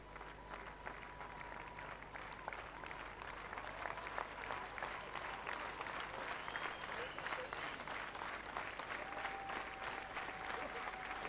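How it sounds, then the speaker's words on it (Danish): At a 1993 Danish Derby harness race, the racecourse crowd applauds and cheers steadily after the finish, a dense, distant wash of clapping, with a voice speaking faintly through it. "forståeligt, at publikum jubler"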